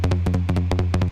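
A UK house bass synth patch with its sub-bass removed, playing a short, punchy rhythmic pattern of repeated stabs with bright, buzzy harmonics, loud and close, alone with no talk, stopping abruptly at the end.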